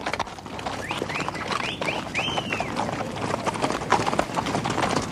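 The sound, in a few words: horse hooves clip-clopping on a trail ride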